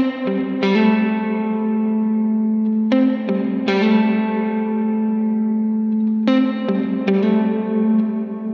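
Electric guitar run through a Line 6 Helix Dynamic Plate reverb, with several loud sustained chords struck and left to ring out in a long, bright plate tail.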